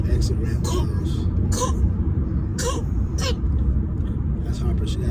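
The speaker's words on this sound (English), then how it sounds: "She got a little cough going" Several short coughs break out over a steady road rumble inside a moving vehicle, spaced irregularly across the clip.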